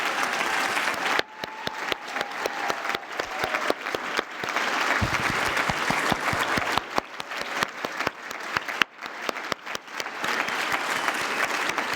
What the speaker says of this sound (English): We need to cheer for you one more time.